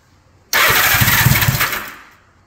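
A motorcycle engine cranks and fires abruptly, roaring loud and close for about a second before the revs fade and settle, with no voices.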